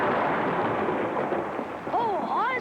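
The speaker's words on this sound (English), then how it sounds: "The actual detonation is done with electrical impulses that travel through those wires leading to the blasting caps." An explosive detonation at a construction site, set off electrically through wires to blasting caps, makes a heavy, sustained rumbling roar that fills the whole stretch, with a voice rising near the end.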